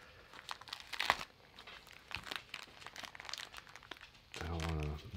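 A taped plastic mystery booster bag is opened, giving bursts of crinkling and tearing plastic, with one louder crackle near the start. Speech runs throughout.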